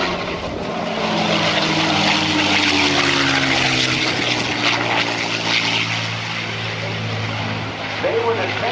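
A P-51 Mustang propeller fighter flies past at a naval air station airshow, its V12 engine drone loud and steady with shifting pitch throughout, while a voice talks over it.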